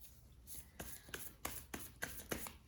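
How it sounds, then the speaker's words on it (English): Quiet, rhythmic rustling bursts of playing cards being shuffled, repeating every fraction of a second with no talking. "we're going to shuffle the cards again."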